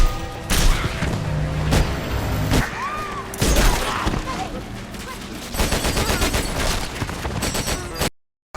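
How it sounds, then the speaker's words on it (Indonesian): Gunfire erupts in a film scene as people shoot at zombies, with dense bursts of loud cracks and booms, rapid volleys and heavy impacts mixed with other action sounds, cutting off abruptly at the end. "mereka pun segera menembaki zombie-zombie itu"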